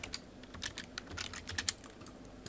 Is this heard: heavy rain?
no